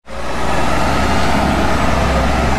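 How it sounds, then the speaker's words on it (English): A concrete truck's loud diesel engine rumbles steadily at close range as it pulls out from a pour at an ICF stem wall construction site, a constant heavy drone without talk. "concrete truck is heading out"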